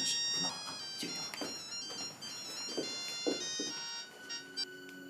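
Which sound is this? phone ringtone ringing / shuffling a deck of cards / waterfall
phone ringtone ringing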